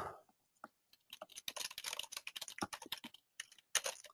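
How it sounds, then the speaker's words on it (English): Typing on a computer keyboard, a fast irregular run of sharp key clicks at close range with brief pauses, no voices. "Let me finish typing all this in here."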